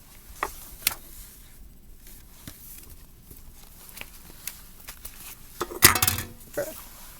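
A metal can topples with a sharp clattering knock, followed by a few smaller clinks and taps in an otherwise quiet room.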